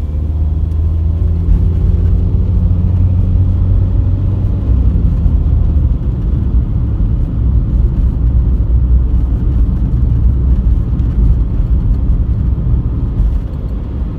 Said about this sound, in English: If the traffic just slowed down a little bit, it would make it much easier to come out of this junction